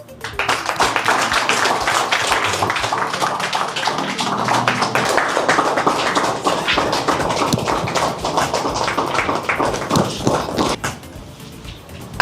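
Sustained applause from a conference audience welcoming the founding couple, dense clapping that holds steady for several seconds before tapering off near the end.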